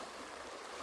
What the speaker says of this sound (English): you can see the water flowing swiftly